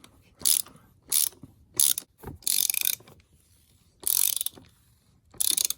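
A ratchet tightens the oil drain plug on a Jeep Grand Cherokee WK2 3.0L EcoDiesel in six short, loud, close bursts of clicking separated by brief pauses, with no talk.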